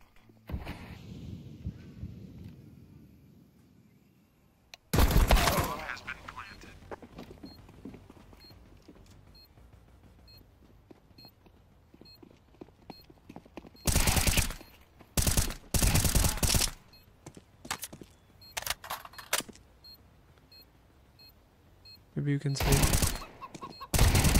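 Bursts of automatic gunfire in a first-person shooter video game come in several loud clusters, with quieter game ambience and occasional talk between them.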